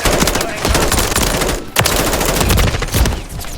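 Rapid automatic gunfire in Call of Duty Modern Warfare 3 during a 10v10 match on the Tokyo map, loud and sustained bursts of shots with brief gaps, and a radio-style voice briefly heard under the shooting.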